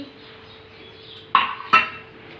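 A utensil stirring jaggery into water in a pot for ragi laddu scrapes and clinks against the metal twice, two short distinct strokes over a quiet background.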